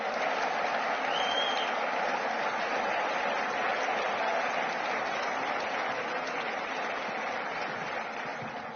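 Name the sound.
applause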